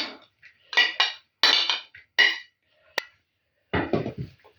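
Grated potato being stirred together with onion and garlic in a bowl for potato pancakes made with homemade cheese, giving several short clinking, scraping bursts of a utensil against the bowl with pauses between them.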